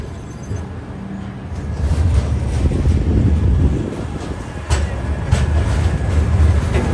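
Godavari Express pulling out of Secunderabad station, a steady low rumble of rolling wheels and carriage noise with occasional rattles, heard close from inside the train.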